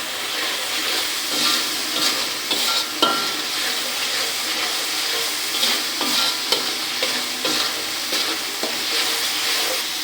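Spices stir-fry in a pan for a Bengali chickpea dal with a steady, close sizzle. Irregular scrapes and clinks of a spatula stirring continue for about ten seconds with no talk.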